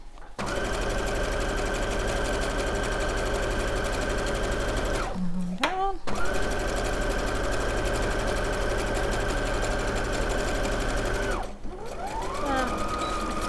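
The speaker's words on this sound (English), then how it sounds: "make sure your needle's down, and away you go, down the side seam" A sewing machine stitches down the side seam of a garment in two long, steady runs of loud, even motor hum. There is a brief pause between the runs for a pivot, and a voice speaks in the gaps.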